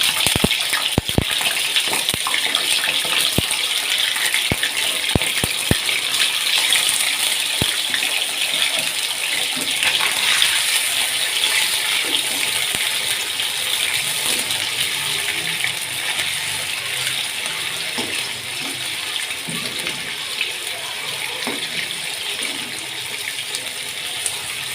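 Chicken for a Lahori-style karahi fries in hot oil, giving a steady, dense sizzle with scattered crackles and pops near the start, loud and continuous throughout, with no voices.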